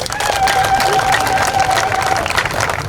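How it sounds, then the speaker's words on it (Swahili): A high, wavering trill of ululation rises from a crowd over clapping and cheering, loud and continuous, with the trilling fading after a couple of seconds while the applause carries on. "Kwa hiyo tunaomba waweze kupigia vigelegele."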